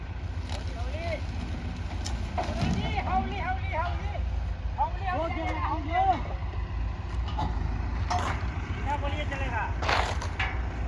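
A New Holland 3600 tractor engine drones with a steady low rumble throughout as it runs in a field, while several people talk over it nearby.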